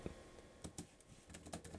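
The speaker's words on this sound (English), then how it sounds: "I am going to start typing in here" Quick, soft keystrokes on a computer keyboard come in short irregular clusters, faint and close, with no talking.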